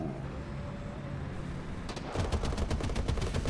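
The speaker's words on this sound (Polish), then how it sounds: "Strzelają do siebie." Rapid bursts of video game gunfire in War Thunder break out after a quiet stretch, a quick rattling series of shots at moderate volume.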